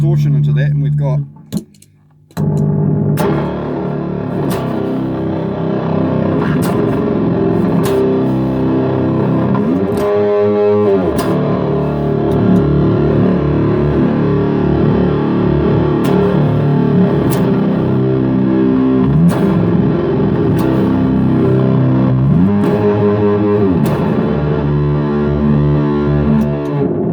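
Distorted electric guitar plays a heavy song, loud and sustained power chords ringing out after a brief pause near the start, with a voice talking over the riff.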